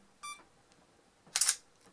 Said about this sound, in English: And it takes a little snazzy picture.